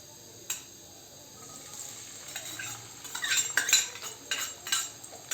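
Finely chopped onion drops into hot oil in a pan for moong dal zunka, with a low sizzle broken by sharp metal spoon clinks and scraping stirs that grow busier toward the end.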